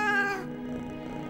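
A cat gives a loud, drawn-out caterwauling meow close by, a single harmonic cry that fades into a lower, rougher tail.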